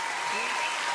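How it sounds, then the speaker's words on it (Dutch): A theatre audience at a Holland's Got Talent audition claps steadily in a dense, continuous wash of applause that fills the whole moment, with a voice faintly audible underneath. "Een topapplaus, dank u wel."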